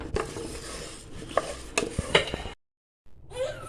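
Green gram (moong dal) dry-roasting in a pan without oil for payasam, stirred with a utensil that scrapes and rattles the grains in several close, irregular bursts, then a short silence and a final scrape.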